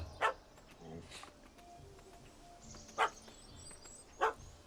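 A puppy barking in The Witcher 3 game, three sharp moderate yaps spaced over a few seconds, alone with faint background sound.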